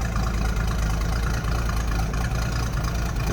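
A carbureted 3.9-liter F-block six in a 1974 Toyota Land Cruiser FJ40 idles smoothly and steadily, a close, even low rumble that holds constant throughout with no talk over it.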